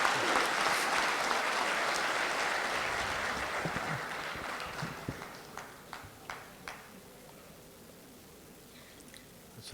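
Audience applause at an international mushaira poetry gathering in Bahrain: dense clapping from a large hall that fades out over several seconds, leaving a few scattered late claps and faint room noise.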